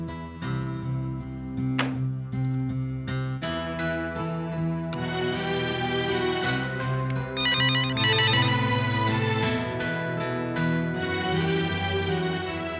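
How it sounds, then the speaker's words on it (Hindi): A telephone rings with a melodic ringtone that plays on continuously and loudly, with no talking over it. "बार बार फोन बज रहा है"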